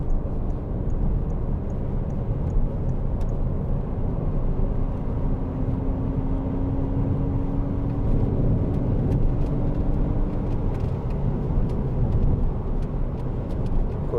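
A 2012 Citroen DS3 1.6 e-HDi diesel hatchback drives along with a steady, loud engine and road rumble throughout, a faint rising tone suggesting gentle acceleration; no talking.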